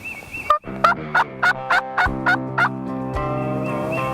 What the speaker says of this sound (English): Turkeys are gobbling good everywhere.